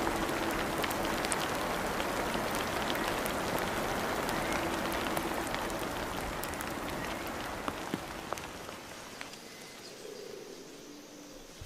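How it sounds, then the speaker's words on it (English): Heavy rain falling on Christmas Island, a dense continuous hiss of drops on foliage and ground that stays loud and steady before easing slightly near the end, with no voices. "The rain softens the soil and revives the land."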